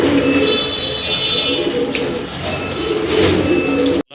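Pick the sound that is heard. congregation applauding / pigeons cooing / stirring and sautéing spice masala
pigeons cooing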